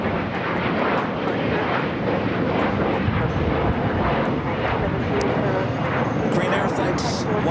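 A jet airliner takes off at LAX with a loud, steady, broadband engine roar that fills the whole stretch without letting up.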